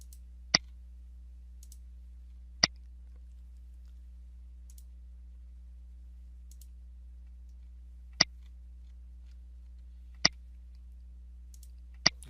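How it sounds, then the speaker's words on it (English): Mouse clicks while using Format Painter in Microsoft Word: five sharp, isolated clicks spaced irregularly over several seconds, close and crisp against a low steady hum. "I simply have to click inside the paragraph to copy those formats."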